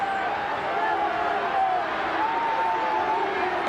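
A rugby league stadium crowd in 1988, Canberra against Manly, keeps up a loud, steady roar of jeering that fills the whole stretch, with a commentator talking over it.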